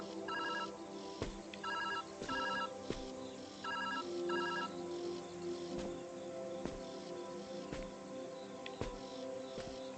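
A phone rings in the video game Viewfinder with repeated electronic trilling bursts in a steady pattern, fairly faint over a quiet ambient background with occasional soft clicks.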